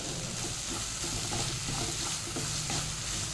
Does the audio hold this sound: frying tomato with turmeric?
yes